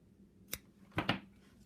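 Scissors snipping through crochet yarn at the fasten-off of a snowflake motif: a quick closing snip, then two close, crisp cuts, faint and near in a quiet room.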